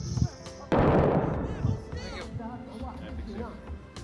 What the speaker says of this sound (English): Heavy machine gun or something.